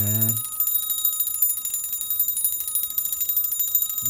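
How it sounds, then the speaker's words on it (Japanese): A bright, continuous metallic ringing from the bell of a 1974 Godzilla tricycle tin toy, jingling rapidly and steadily for several seconds, close and fairly loud. "この鈴の音が可愛いですよね。"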